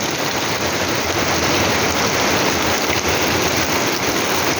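Steady heavy typhoon rain pours down outdoors, a dense continuous hiss with no letup and no voices.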